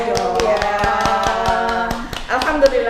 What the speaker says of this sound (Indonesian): Tepuk tangan dong Bu.